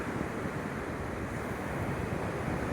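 Surf washes onto Peunaga Pasi beach in the late afternoon, a steady, dense roar of breaking waves mixed with wind noise, with no voices.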